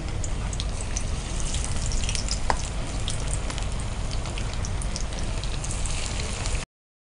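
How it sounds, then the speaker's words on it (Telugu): Chicken legs fry in hot oil over low heat, giving a steady, dense crackling sizzle that stays close and even throughout before cutting off abruptly. "మనం చికెన్ని ఆయిల్లో వేయగానే టర్న్ చేయొద్దండి."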